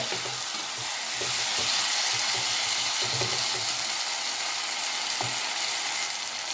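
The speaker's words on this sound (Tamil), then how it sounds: "இப்போ இந்த தக்காளியும் கிழங்கு நல்லா வேகட்டும்." Tomatoes and potatoes cooking in a pan for a Bombay duck gravy, a steady close hiss of sizzling with soft bubbling and occasional faint stirring knocks, continuous throughout.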